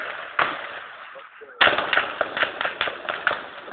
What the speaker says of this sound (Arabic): اطلاق نار كثيف